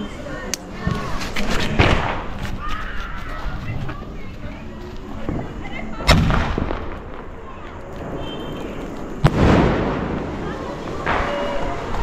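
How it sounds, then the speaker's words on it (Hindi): Large sky shot firework fired during Diwali, several sharp booming explosions a few seconds apart with crackling between, loud and outdoors while someone talks excitedly over it. "ये गाइस काफ़ी बड़े साइज का है स्काई शॉट, ये देखो।"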